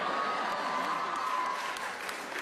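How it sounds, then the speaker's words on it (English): A crowd at a high school graduation claps during a valedictorian speech, sustained even applause from many hands that fills the hall and fades only slightly toward the end. "you guys can clap for as long as you want"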